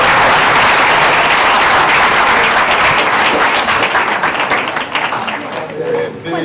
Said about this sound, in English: let's have a round of applause for Morgan Freeman, please